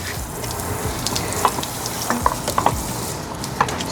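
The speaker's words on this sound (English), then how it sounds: "So I'm just gonna spray those tires off really nice" A water hose sprays the tires of a Goat Power bike during detailing, giving a steady close hiss with small splattering ticks as the stream strikes the rubber.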